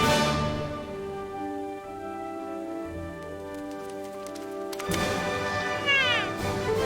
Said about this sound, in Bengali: এটা হলো ক্যাট। ক্যাট মানে বিড়াল।